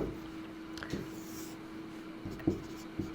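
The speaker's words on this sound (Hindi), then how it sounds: "तो यहाँ पर लिखते हैं" A pen writes out steps of a Class 10 height-and-distance maths problem, faint scratchy strokes and a few taps on paper under a steady low electrical hum.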